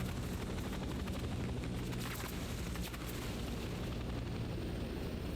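Broadband rotor roar of a helicopter passing overhead in the Vietnam War game Hell Let Loose: Vietnam, steady and loud, mixed with rumbling booms from a game battle.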